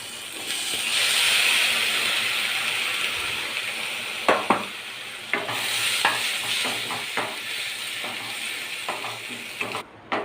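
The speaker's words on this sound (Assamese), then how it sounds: "এতিয়া শাকখিনি দিয়াৰ পিছত আমি অলপ টাইম ভাজিম।" Greens (saag) frying in a pan with potatoes, a steady hiss of sizzling oil with a few sharp clicks and scrapes of stirring, close by and fairly loud, no talking.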